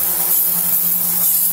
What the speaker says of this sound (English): Just spray the whole caliper.